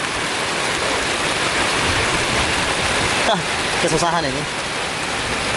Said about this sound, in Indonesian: Hujan deras lagi bosku.